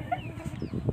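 Free-range chickens let out a brief run of soft, close clucks in quick succession, heard alone without any talking.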